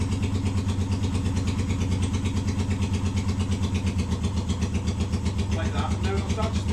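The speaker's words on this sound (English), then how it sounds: "You can see when you'll listen as I dial it in, the engine will start to stall." A Honda CL 350 Scrambler motorcycle engine idles with a steady, rapid low thumping pulse, close and loud, holding an even rhythm as it is adjusted toward stalling.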